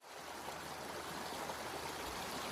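Creek water streams steadily along Bull Creek during a gold-prospecting outing, a continuous broadband rush and babble that holds an even level from start to finish with no talk over it.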